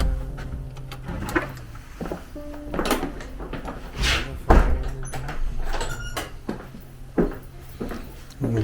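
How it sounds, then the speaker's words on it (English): An old door at Holy Trinity church in Queenborough is opened and closed, making a series of creaks, knocks, latch clicks and a heavy thud at close range. "Beautiful old door."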